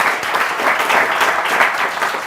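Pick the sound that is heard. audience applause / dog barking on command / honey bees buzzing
audience applause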